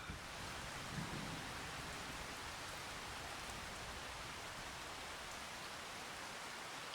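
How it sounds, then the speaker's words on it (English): Heavy, even rain hiss in the video game Farming Simulator 25 fills the whole stretch, a steady dense wash of falling water with no voices. "I don't think it's ever going to stop raining in this game."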